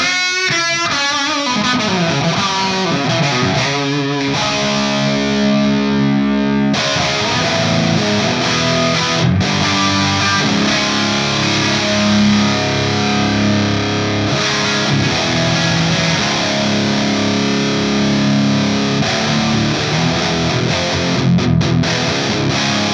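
High-gain electric guitar played through a UAFX ANTI amp pedal, a dense distorted wall of chords and riffs sounding loud and continuous for the whole stretch, with no talking.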